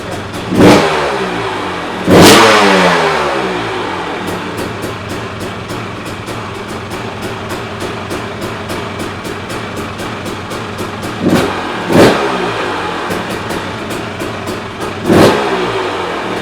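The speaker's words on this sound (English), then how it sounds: "We're going to start it up and adjust the idle and also the air screw." A 2017 KTM 300 two-stroke motorcycle with a Keihin 38 carburettor starts and settles into a steady, close-up idle, punctuated by several sharp throttle blips.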